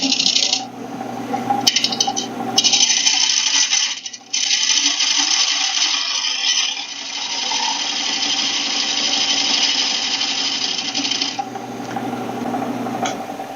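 Wood lathe spinning as a gouge rides its bevel across the outside of a wooden bowl, a steady loud scraping hiss broken by brief dips near the start and middle, continuous and close with no talk.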